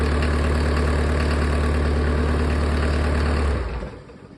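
A Mercedes OM601 2.3-litre diesel engine driving a PN-40 irrigation water pump idles with a steady, loud low rumble for about three and a half seconds, then is shut off and quickly winds down.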